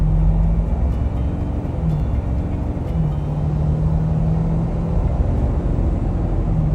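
A Ford F350 Super Duty with a 6.7L turbo diesel engine accelerating, heard from inside the cab as a loud, steady low rumble with a droning engine tone that rises and holds.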